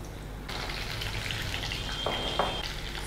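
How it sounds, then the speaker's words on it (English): Diced eggplant (brinjal) sizzles in hot oil in a pan for Indian eggplant masala, a steady crackling fry with a few louder pops near the end, close and continuous with no talking. "Saute it till brinjals are soft and tender."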